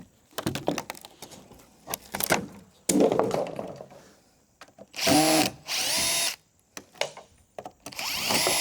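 A power router cuts along the curved edge of a wooden boat deck during a cabin build, running in loud sustained bursts separated by knocks, clunks and short pauses.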